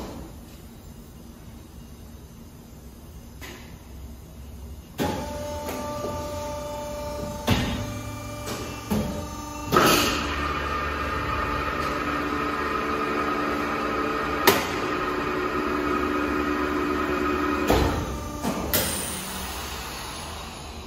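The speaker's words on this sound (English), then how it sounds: "This is the silicon heat transfer level machine." Silicone heat transfer level machine used for making silicone stickers runs with a steady electrical hum and tonal whine, broken by several sharp clicks and clunks from its controls and press, fairly loud and close.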